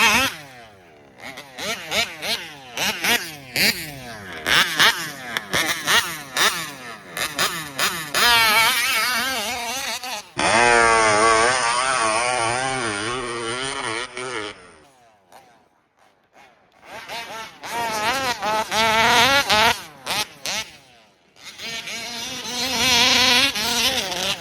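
Petrol engine of a Supreme Kraken Vesla RC boat running lean and low on fuel, a loud high-pitched buzzing whine that surges and wavers, cuts out briefly, then screams back up.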